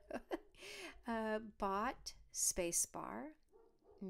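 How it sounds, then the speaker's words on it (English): A dog barks faintly in the background in a few quick, closely spaced yelps while a person talks steadily in the foreground. "maybe you can hear my dog barking in the background."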